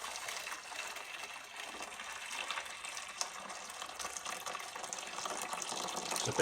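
Steady rushing of water from a tap, a continuous hiss-like gush that stays fairly quiet and even throughout.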